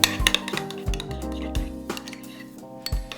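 A spoon clinks repeatedly against a bowl as tuna salad seasoned with salt and black pepper is briefly mixed, with light rhythmic taps over a low steady hum.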